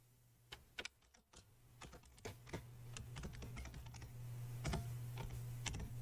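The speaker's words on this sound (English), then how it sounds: "I've recently also changed my keyboard, so I'm just getting used to it." Typing on a newly changed computer keyboard, an irregular run of quick key clicks and taps, close and fairly quiet over a low steady hum, with no voices.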